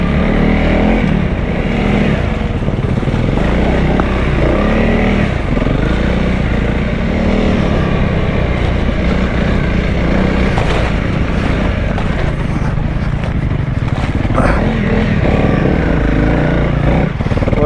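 A 2025 Honda CRF300L trail motorcycle ridden enduro-style off road, its single-cylinder engine droning loud and close throughout with uneven throttle surges and rough rumbling.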